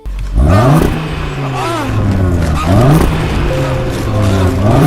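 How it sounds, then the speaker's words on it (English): An Audi RS3 four-cylinder engine revs hard, pitch climbing and dropping in repeated sweeps, with a deep rumbling exhaust and a steady low drone underneath. "let's not forget about the exhaust note. It sounds like a symphony of horsepower"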